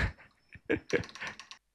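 Keys on a MelGeek Made68 Pro magnetic gaming keyboard clack close up in a quick, uneven burst of several strokes, then stop.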